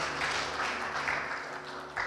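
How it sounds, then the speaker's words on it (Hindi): A Sunday Hindi church congregation gives a short, fairly quiet burst of applause to thank God, the dense clapping heard from a distance in the hall. "क्यों ना जोरदार तालियों के द्वारा हम परमेश्वर को धन्यवाद दें।"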